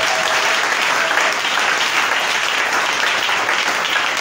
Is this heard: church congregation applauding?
yes